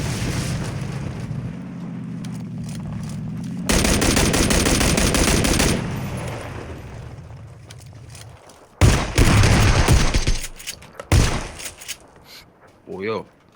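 Rapid bursts of M16 automatic rifle fire in the video game PUBG: Battlegrounds crackle in several stretches, with pauses between, and voices talk over parts of it.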